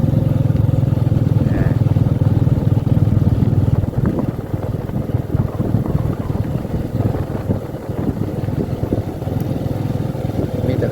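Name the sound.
motorcycle engine powering a work machine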